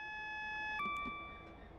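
A train cab alarm in Train Sim World 4 on an HST: a steady electronic tone that drops to a lower pitch partway through, with a few faint clicks. It is quiet and brief.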